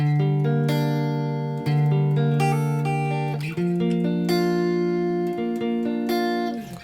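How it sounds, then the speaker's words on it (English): Layered guitar chords from a song's verse ring out one after another, each strum sustaining and blending into the next as the harmony shifts upward, played close and clear before fading at the end. "those nice layered chords that you hear towards the end of the verse"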